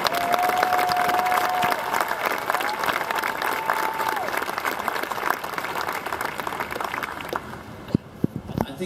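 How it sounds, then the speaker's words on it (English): A crowd claps in sustained applause, dense and steady, with a few whistles and voices, fading toward the end into scattered claps. "give them a round of applause"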